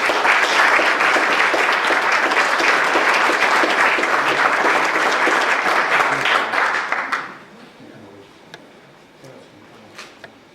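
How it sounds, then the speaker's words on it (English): A council meeting audience applauding, a loud sustained burst of dense clapping lasting about seven seconds before cutting off abruptly into quiet room tone with a few faint ticks. "please join me in one more round of applause for them."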